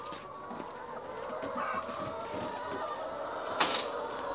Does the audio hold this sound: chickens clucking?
yes